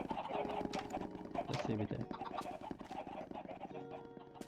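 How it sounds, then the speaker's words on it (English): Many Minecraft chickens in a large pen, clucking in quick overlapping bursts at low level, with someone talking over them. "130 chickens here."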